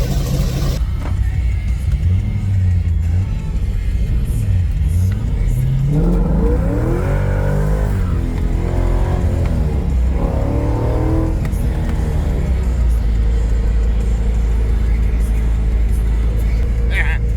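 A C5 Corvette engine rumbles loud and close while driving, rising and falling as it revs through gears, with a deep steady drone throughout.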